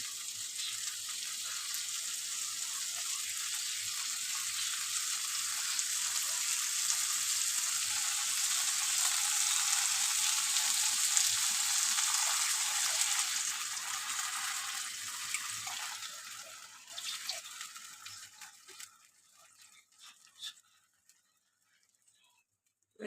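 A splash of water hits a hot frying pan of fish curry and sets off a loud, steady sizzle that holds for about fifteen seconds, then breaks up into weaker crackles and dies away to near silence.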